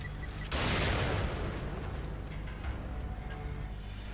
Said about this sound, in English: Fuck it, I'll bomb him.